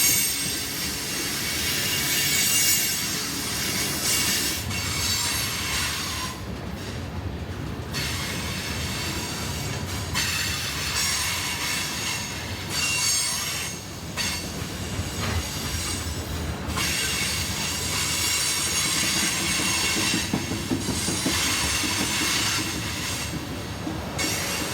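A CSX freight train of tank cars carrying chemicals and liquefied petroleum gas rolls past on the Cumberland Subdivision in Maryland, wheels squealing loudly with steady rumbling and rhythmic clatter that dips briefly at car gaps.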